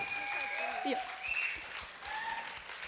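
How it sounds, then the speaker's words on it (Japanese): Audience applause for Kokona at a church service, a moderate wash of clapping heard through a voice speaking over it. "Let's give her a hand."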